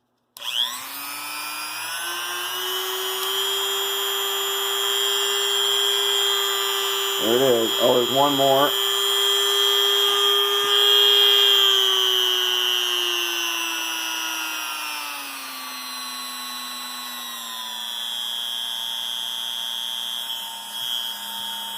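A Harbor Freight Chicago Electric rotary tool runs at high speed, a steady whining drone that shifts pitch slightly and winds down near the end, with brief speech and a short rattle over it.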